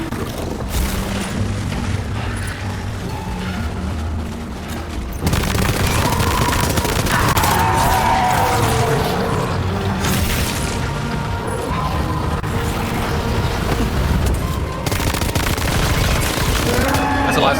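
Game gunfire in Death Stranding 2 rattles in dense bursts over a rumbling backdrop, growing louder and fuller after the first few seconds and continuing as sustained close volleys and booms.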